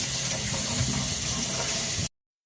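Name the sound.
washing cherries under running tap water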